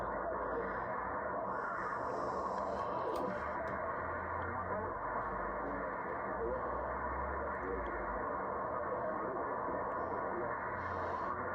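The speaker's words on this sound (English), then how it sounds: "there's somebody on AM in 40 meters." An AM station is received on the 40 meter amateur band and sounds distorted and murky. A muffled voice-like signal sits under a dense, constant hiss of static and noise, with faint whistling tones drifting above it.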